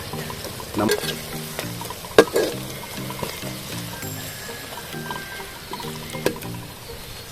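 Onions frying in a pan, a steady close sizzle with stirring scrapes and occasional clinks of a utensil, voices faint or absent.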